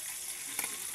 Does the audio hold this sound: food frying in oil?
yes